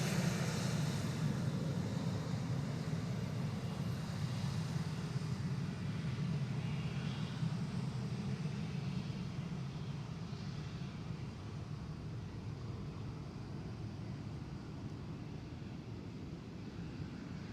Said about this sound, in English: And another KLM Cityhopper E190